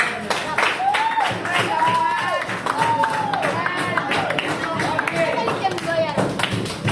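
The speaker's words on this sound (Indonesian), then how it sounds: "Berikan tepuk semangat." A classroom of students claps together in encouragement as a group joins in, a steady busy patter of hands with voices talking and calling out over it throughout.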